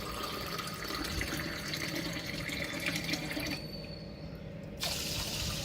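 Water is poured from a glass into washed Bharat rice in a cooker pot before cooking; a steady close trickle and splash runs, briefly drops off, then resumes.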